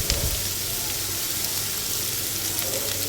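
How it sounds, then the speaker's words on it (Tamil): Chopped beans fry over a high flame, giving a steady, dense sizzle that runs unbroken from start to finish with no voices. "ஒரு 5 மினிட்ஸ் ஹை ஃப்ளேமில் ஃப்ரை பண்ணிக்கலாம்."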